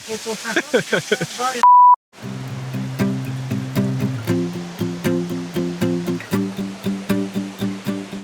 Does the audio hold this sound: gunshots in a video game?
no